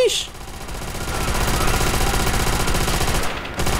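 Sustained rapid weapon fire in Call of Duty: World at War, with rattling bursts that run almost without a break and swell louder midway before a short drop near the end, while faint voices sit beneath the shooting.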